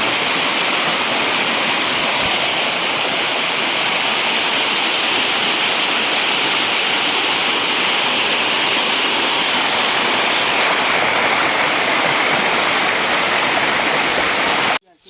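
A hidden waterfall in Baleshwar, Odisha roars steadily and loudly in a dense, unbroken rush of falling water that fills the whole clip before cutting off abruptly at the very end.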